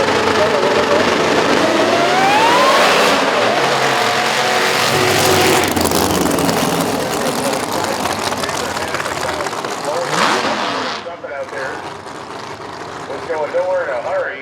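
Drag race between an alcohol-burning 1969 Camaro and a big-block 1970 Chevelle: loud roaring engines launch and pull away, dominating for about ten seconds before fading, with a commentator talking over the racket.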